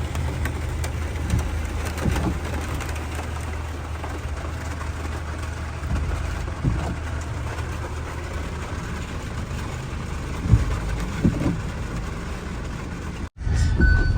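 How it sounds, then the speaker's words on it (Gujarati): Heavy rain pours steadily in Jetpur under dark clouds, a dense, continuous hiss close by with a low rumble beneath and a few brief knocks. "અડધી કલાક થી આ ચાલુ છે વરસાદ."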